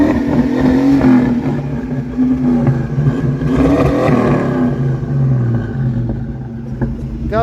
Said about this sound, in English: Got a little bit of backfiring through the carburetor,